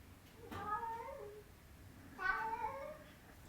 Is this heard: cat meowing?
yes